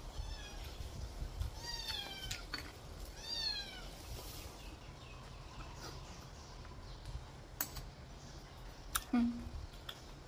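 A cat gives several short meows in the first few seconds, followed by scattered clicks and faint rustling at a moderate distance.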